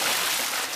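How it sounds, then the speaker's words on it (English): Brief burst of cartoon water splashing, a short broadband hiss of spraying water fading out at the end, with no voices. "Daddy Pig has splashed everyone with water."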